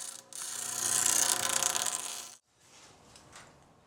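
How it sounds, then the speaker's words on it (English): A steel card scraper's edge is jointed with a file: one long, close rasping stroke lasting about two seconds, then a fainter, rougher scrape. "This second method involves simply jointing the card scraper with a file"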